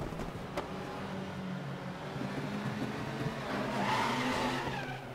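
Honda Civic touring cars race in RaceRoom, a continuous roar of engines and tires at close range, a steady dense drone that swells slightly near the end.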